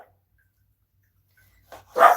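A Maltese puppy gives a couple of sharp barks in the background of a kitchen after a long near-silence, the last bark louder and fuller.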